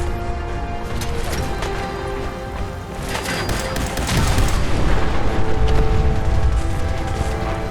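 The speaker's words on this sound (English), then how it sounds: "explosions look really good for a decade-old game, I must say" Explosions in the video game Fallout 4, a dense run of booms and crashing blasts with rattling gunfire mixed in, loud and continuous, heaviest in the second half.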